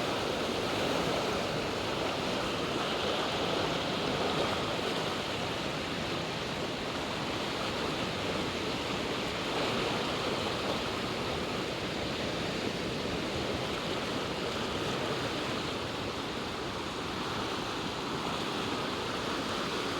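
Swollen Ganges river water surges through a barrage release, a loud, continuous roar of churning waves and rushing water, steady and unbroken throughout with no voices.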